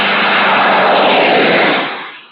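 A jet-assisted takeoff of an aircraft: a loud, steady broadband roar that holds strongly and then begins to fade away toward the end, heard alone.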